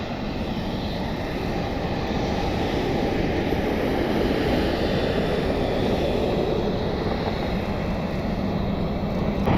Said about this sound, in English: Got a Delta Connection E175 landing in the background.